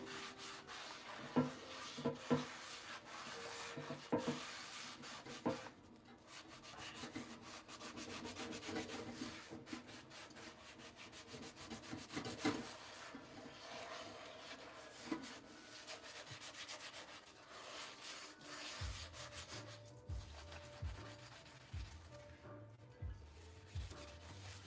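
A worn Scrub Daddy sponge scrubs a surface in quiet, close rubbing strokes, uneven bursts of friction with small knocks, faint and intermittent throughout.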